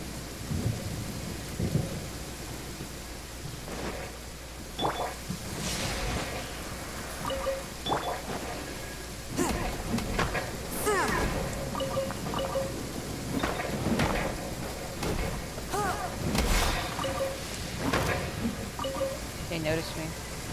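Steady rain with repeated low rumbles of thunder in the video game Genshin Impact, continuous and moderately loud, with scattered drips and occasional game sounds over it.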